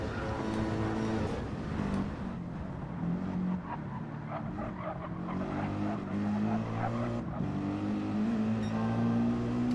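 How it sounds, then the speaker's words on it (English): A Mercedes race car's engine howls through a two-lap race on the Nürburgring Nordschleife, its pitch climbing and dropping through gear changes, steady and fairly close with brief tire squeal. "the Mercedes does sound good"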